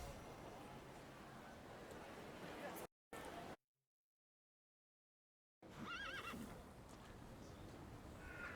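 A horse neighs and hooves clip-clop in the video game The Thaumaturge, loud and close at first, then cut by a gap of silence before resuming with a whinny under faint background murmur.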